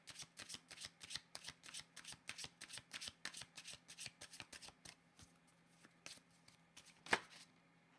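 Tarot cards being shuffled by hand, a quick steady run of crisp riffling flicks close up, ending in one sharper snap near the end.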